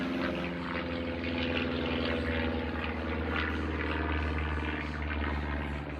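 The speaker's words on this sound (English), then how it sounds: "Excuse the planes, or it must be under a flight path." Small propeller planes such as biplanes from a nearby little airport drone overhead, a loud steady engine hum that fills the whole stretch without fading.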